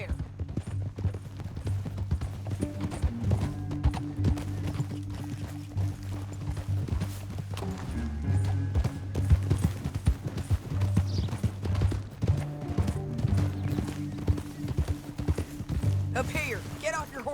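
Horse hooves clip-clop steadily in Red Dead Redemption 2 as riders move through a canyon, a continuous rhythmic trot under music and intermittent talking.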